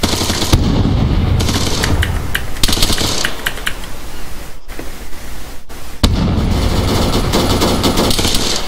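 Gunfire rattles in an Arma military game session: loud, dense bursts of automatic fire with sharp individual cracks, pausing briefly before another sustained volley.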